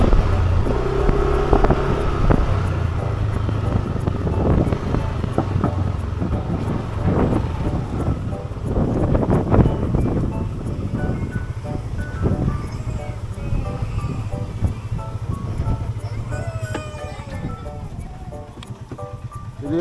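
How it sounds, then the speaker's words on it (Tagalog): Strong wind out at sea, rough gusting and buffeting across the microphone with a steady engine hum beneath and a voice speaking briefly. "lakas ng hangin"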